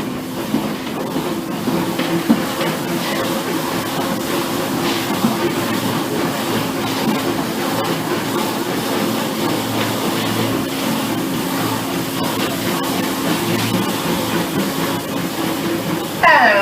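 The Disneyland Railroad steam locomotive Fred Gurley rumbles along with a continuous steady roar and clatter of rolling cars, heard from on board with faint voices in the background.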